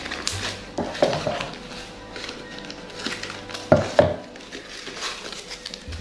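A plastic spoon holder is unboxed and handled indoors, making light clattering knocks, rustles and a few sharp taps over a steady background hum.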